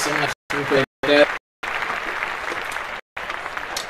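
Applause in a podcast studio, a steady burst of clapping that rises after a few short spoken phrases and carries on fairly loud with a brief break near the end.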